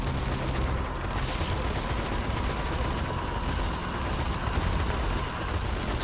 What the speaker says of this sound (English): Shall I jump on this turret?